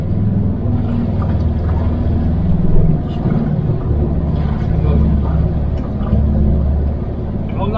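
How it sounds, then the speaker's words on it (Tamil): Mahindra Thar RWD engine pulling hard at full acceleration, a steady loud low rumble with rising and falling throttle surges, close and continuous throughout. "ரேஸ் பண்ணி ஃபுல் ஆக்சலரேஷன் இருக்கு."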